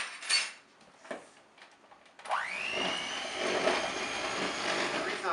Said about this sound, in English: Then I'm going to mix that all together.